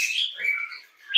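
Rainbow lorikeet chicks chirping close by, thin high-pitched cheeps and a drawn-out squeaky call, with a sharper chirp at the very end.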